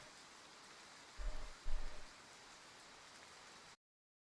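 Rain falls steadily in a video game jungle, a soft even hiss of drops with a couple of brief low rumbling bursts partway through before it cuts off.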